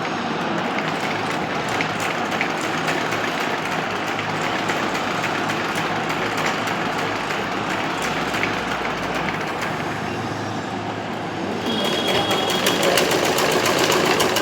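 A sewing machine runs steadily for the whole stretch, stitching gathers on a puff sleeve. Its dense, continuous whirr stays close and even, rising slightly louder near the end, with no talking.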